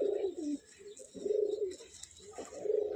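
A pigeon from a loft of closed-tail birds coos softly in a few rounded, repeating phrases, close by and fairly quiet, with no talk over it.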